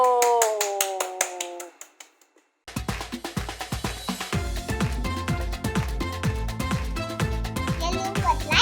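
A short tune plays, then after a brief gap a group of children clap in a quick, bright burst of claps over background music.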